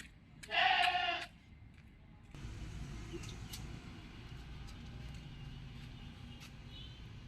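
Goat kids give one loud, close bleat near the start, followed by a low, steady rumble like a passing vehicle for the rest of the clip.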